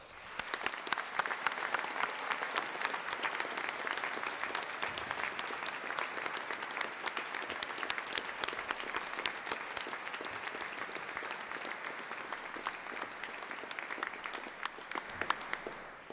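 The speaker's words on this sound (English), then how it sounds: "Let's give them a huge round of applause." Sustained applause fills a cathedral at a university degree ceremony as graduates' families and friends are thanked, an even wash of many hands clapping at moderate, slightly distant level for the whole stretch.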